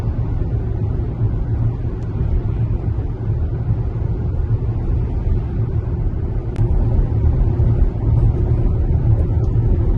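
A 2025 Chevrolet Blazer EV SS rolls along under Super Cruise hands-free driving, giving a steady, fairly loud cabin rumble of road and tyre noise that holds constant throughout with no voices.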